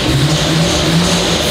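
Nissan R34 GT-R with individual throttle bodies revving, a loud close engine drone holding steady with a rising, throaty tone, no voices.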